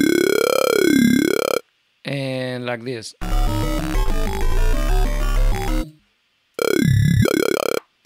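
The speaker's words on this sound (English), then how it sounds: "today we're going to be making basses that sound like this." Vowel-style bass synth built in Ableton Live, loud and close, playing in three bursts of throaty, talking wah-like tones around a short busy musical passage, with a brief spoken line between them.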